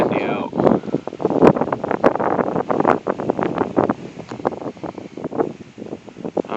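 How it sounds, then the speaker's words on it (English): Strong gusty wind from the edge of Hurricane Joaquin blows outdoors in Breedsville, battering the microphone in repeated rough bursts and rustling, loud and close, with a voice faintly mixed in. "it's getting really windy out"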